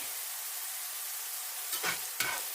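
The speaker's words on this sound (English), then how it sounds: "the butter, garlic, and onions are getting brown." Butter, garlic and onions browning in a pan for chicken pot pie keep up a continuous, even frying hiss, with two short stirring scrapes near the end.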